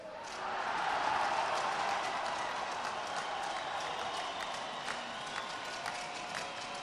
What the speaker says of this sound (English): So the big cheer you heard was from mat number 3